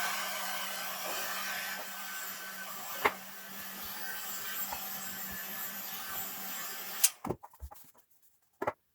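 Heat gun or hair dryer warming a vinyl sticker on a Thrustmaster F1 wheel so the adhesive softens, a steady close blowing hiss for about seven seconds before it switches off, followed by a few faint handling clicks.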